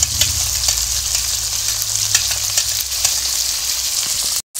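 Ginger paste and cumin paste fry with spices in a hot pan for a cabbage chorchori. A close, steady sizzle and crackle runs throughout, with faint stirring scrapes, then cuts off briefly near the end.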